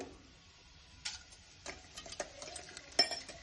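Chana dal, urad dal, turmeric, chillies and ginger sizzle softly in a pan while being stirred, with quiet crackles and occasional sharp clinks of a spoon against the metal.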